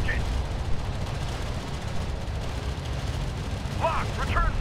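Gunfire from Homeworld: Deserts of Kharak crackles in a steady, dense barrage, with rumbling explosions and engine noise in the game's battle mix and brief radio-style voice chatter near the end.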